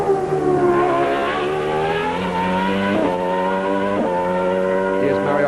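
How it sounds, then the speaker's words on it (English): Struggling Formula One car engine at the 1995 Australian Grand Prix in Adelaide, a loud high-pitched wail rising and falling through gear changes, roughening with strain, with a commentator's voice faintly underneath. "Listen to that engine."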